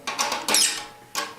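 An instrument string cranked tight by hand with no tuning mechanism, giving a few short, close, scratchy ratcheting bursts.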